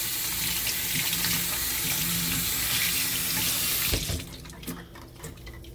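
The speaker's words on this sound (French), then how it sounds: "j'ai pris 4 cannelles qu'on va aller laver avant qu'on puisse le mettre dans le chaudron" A kitchen tap runs hard as four cinnamon sticks are rinsed beneath it; the water gushes steadily for about four seconds, then shuts off, leaving small drips and clinks.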